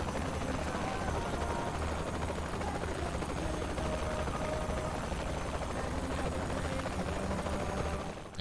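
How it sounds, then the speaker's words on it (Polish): A helicopter flies in the video game Saints Row: The Third, a steady, loud rotor drone that holds without a break for the whole stretch, with a faint engine whine above it. "Można, tylko jak się lata helikopterem?"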